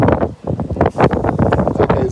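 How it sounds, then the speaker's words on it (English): Strong wind gusting across a microphone outdoors at a busy site where tripods keep blowing over, a steady loud rumbling buffet with swelling gusts throughout. "It's so windy here, the tripods keep falling over"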